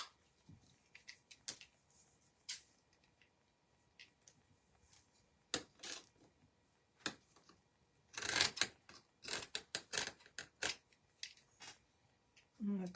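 Scissors snip a small piece of lace for a faux bird's nest craft, a scattering of quiet, sharp close-up cuts and rustles, clustering into a quicker burst partway through, with soft handling noise between.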